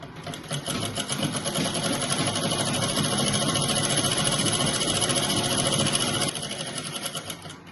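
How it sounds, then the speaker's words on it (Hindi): A domestic sewing machine stitches two pieces of trouser cloth together in a steady, continuous mechanical whir that runs loud and close for most of the clip, then eases slightly near the end. "और मैं इसकी सिलाई कर दूंगी इस तरह से, ऐसे।"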